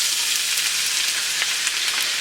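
Finely chopped onions frying in hot oil give a steady bright sizzle with faint crackles, continuous and close, with no talk.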